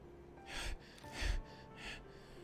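Three heavy, breathy gasps for air, close and loud, from a character sitting in darkness in the video game DeathMark, each gasp spaced under a second apart against a quiet background.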